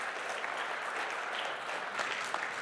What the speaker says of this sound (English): Let's have some applause for Nick